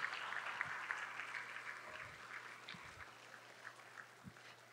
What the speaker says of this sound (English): let's give another round of applause to our wonderful students and that toe-tapping performance.